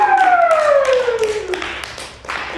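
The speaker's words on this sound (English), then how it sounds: "Another round of applause" An audience at a school fine arts spring presentation claps for the contestants. The applause is a steady patter of hands under a loud, sliding whistle-like tone that falls in pitch and fades out.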